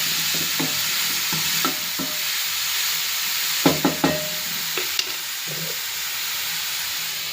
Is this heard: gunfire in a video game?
no